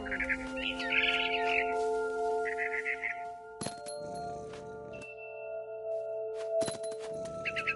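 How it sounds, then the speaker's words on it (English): Barn swallow chirping in a PS4 video game, short bright twittering bursts over a steady tonal game soundscape, followed by a couple of sharp clanging hits. "Then I heard chirping outside my window. It was a barn swallow going back to her nest."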